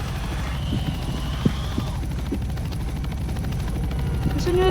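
A helicopter in the Roblox game Stranded, heard as a steady low rotor drone that runs through the whole stretch, with a few faint knocks and a rising tone near the end.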